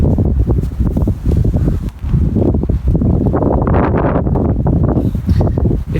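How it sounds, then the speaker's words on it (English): Strong storm wind batters a Naturehike Cloud Up2 tent in a continuous loud roar with rustling gusts and flapping buffets close to the microphone. "But it is still very windy."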